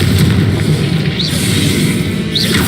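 A Confringo explosion spell going off in the video game Hogwarts Legacy, a loud sustained blast with rumbling low end and two short whistling flourishes riding on top.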